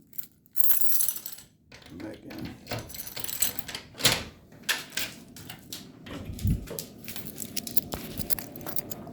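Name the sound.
keys jangling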